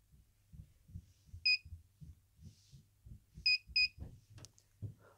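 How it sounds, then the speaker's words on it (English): SONOFF T1 UK three-gang smart wall touch switch entering pairing mode gives short high electronic beeps, one single then a quick pair, over a steady low hum and soft tapping. "Where you're going to hear this beep and the flashing light"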